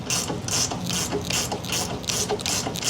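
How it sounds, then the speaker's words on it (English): A flex-head ratchet on a 14 mm bolt loosens a loose, hand-tight suspension bolt on a vehicle, giving rapid, close clicking in several quick bursts with short pauses between strokes. "We'll go in there with a flexi 14 mil, get this last one off"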